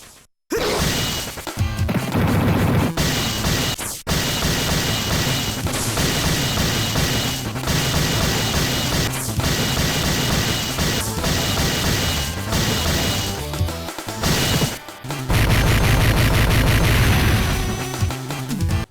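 Metallic punch and smash effects from the Power Rangers Wild Force game on Game Boy Advance, loud and dense, a steady barrage of sharp clanging hits over game music with brief gaps.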